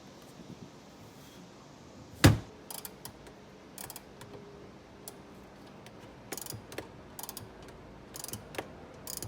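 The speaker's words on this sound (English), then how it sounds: "you're going to take off the shock absorber upper mounting nuts" Ratchet clicking as the shock absorber upper mounting nuts come off a Mitsubishi 3000GT or Dodge Stealth during a coilover install, in short bursts of fast ticks with one loud knock early on, close and without talk.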